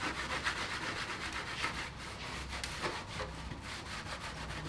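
Steady dry rubbing of a rag soaked in brake cleaner over an old painted rat rod wagon body, scrubbing paint away in continuous close strokes with no talk.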